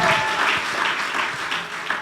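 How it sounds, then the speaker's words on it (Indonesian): Congregation at a church worship service in Batam applauding together, a sustained dense wash of many hands clapping at close range, fairly loud and unbroken. "Ayo, orang-orang yang berharap pada Tuhan, bertepuk."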